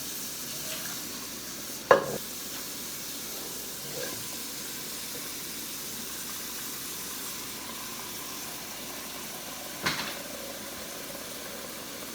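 Steak cooking in a pan, a faint steady sizzle and hiss in a home kitchen, with a couple of brief utensil clinks standing out over the continuous frying noise.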